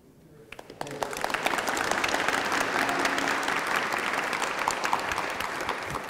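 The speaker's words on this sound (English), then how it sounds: "Another round of applause" Audience at a speaker-series evening with an innovation minister bursting into applause, starting with a few claps and swelling quickly into loud, sustained, dense clapping that holds steady to the end.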